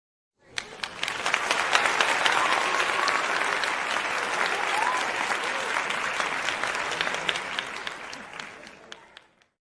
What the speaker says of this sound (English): let me go ahead and just applaud y'all. Let me give my applause in and thank y'all.